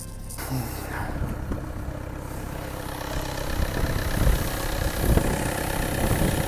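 A Skoda Octavia or Superb engine runs at idle under the open hood, a steady close rumble that swells slightly in the second half, with light handling noises.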